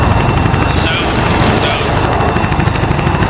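Rapid gunfire in the military video game Arma 3, with loud, dense bursts of shots and rumbling booms packed together, and voices mixed into the din.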